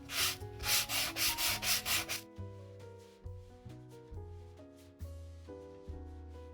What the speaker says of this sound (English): I am bringing in a sanding block, and I am going to lightly scruff on top